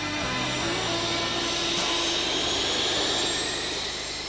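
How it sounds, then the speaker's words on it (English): U-125A aircraft jet engines running after start-up, a loud steady roar with a high-pitched whine sustained throughout, close by and with no talking. "The engines are started."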